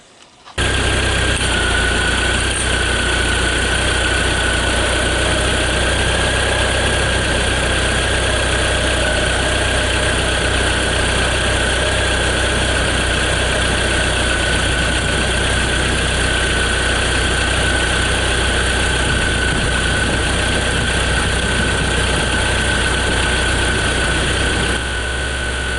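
Jeep Wrangler TJ engine idling steadily and close, a continuous even rumble with a faint whine on top, running unchanged for about twenty-five seconds with no talking.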